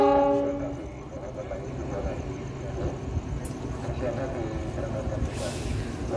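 A train horn sounds briefly at the start, then the steady rumble and clatter of a passing train near Karangsari station, Indonesia, continues, with a brief hiss near the end.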